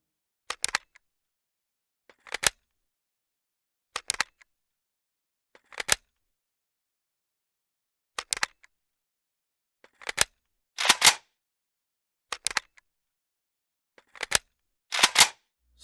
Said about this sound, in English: the first reload animations to be added to the game